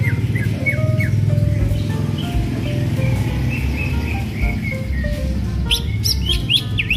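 A caged songbird at a bird-singing contest gives bright, repeated chirps and trills over a steady low background hum, with several birds calling at a moderate distance.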